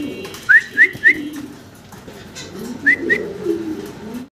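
Lahori pigeons, a yellow pair, give short rising calls, three in quick succession and then two more, over a low murmur of background sound.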